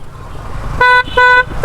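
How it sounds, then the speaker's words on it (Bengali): A car horn on a busy road gives three loud, close, short honks in quick succession over a low rumble of traffic. "আর রাস্তাঘাটে তো হর্ন দিতে নাই"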